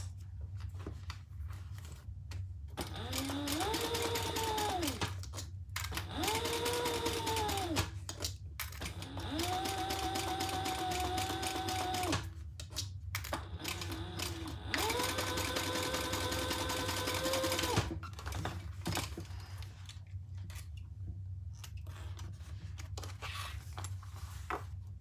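A sewing machine runs in several bursts while stitching the seam of a Ciana crossbody bag, each run rising to a steady whirr and stopping, with quiet pauses between passes; no one talks.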